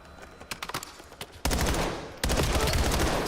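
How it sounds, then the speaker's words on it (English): Gunfire in a Call of Duty League Championship match: a few sharp, scattered shots, then two sustained, loud bursts of rapid automatic fire close up. "Cell shooting right now, nearly able to find a second in the round"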